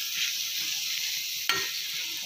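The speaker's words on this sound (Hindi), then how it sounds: "देखिए मैंने घी में इसको डाल दिया है और अब इसे चलाते हुए भूनेंगे" Grated bottle gourd roasting in ghee gives a steady, bright sizzle, with one sharp scrape of a spoon midway as it is stirred.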